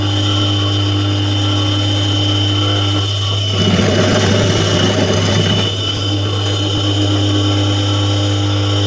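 Electric sewing machine stitching a large placket strip onto a gents kameez, a steady motor whir rising for about two seconds mid-clip over a constant low mains hum, close and fairly loud.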